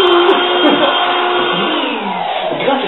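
A Power vacuum cleaner runs close and loud with a steady, continuous whirring drone, tailing off slightly toward the end.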